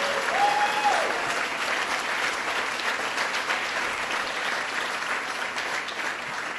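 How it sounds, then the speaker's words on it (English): An audience at an awards event applauds steadily, a continuous wash of clapping that holds at even loudness throughout, with no cheering standing out. "Let's give them a round of applause and thank them for being here."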